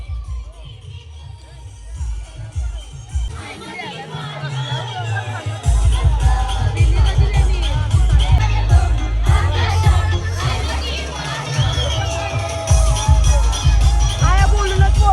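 A village palkhi procession and orchestra celebration at the Pachgaon fair in Ulwe fills the air with a loud, dense crowd roar of cheering and shouts, punctuated by rhythmic thumping music, with a voice talking over it at first.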